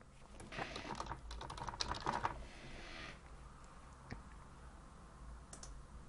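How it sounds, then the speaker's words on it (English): Computer keyboard typing, a quick cluster of close, quiet key clicks for about two seconds, then a couple of isolated taps over a faint room hum. "and we type our group here"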